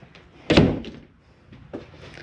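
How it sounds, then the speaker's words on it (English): A travel trailer's bathroom door is pushed shut, giving one solid close-by thunk followed by a lighter knock or latch click a moment later. "Close our bathroom door."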